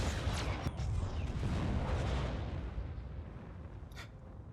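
A cycler rifle shot from an episode of The Mandalorian: a loud, booming blast with a rumbling tail that fades over several seconds.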